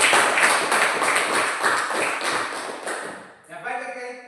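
A room full of people breaks into dense, steady applause for several seconds. The clapping cuts off sharply and a voice takes over right after.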